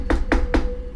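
Three quick, evenly spaced knocks on a door, close and clear, with no one speaking.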